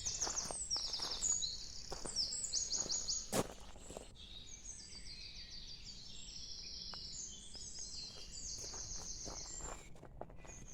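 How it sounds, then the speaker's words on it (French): Small birds chirp and twitter in quick repeated bursts outdoors, fairly faint against a quiet background, with a single sharp knock partway through. "C'est très apaisant, il y a des petits oiseaux."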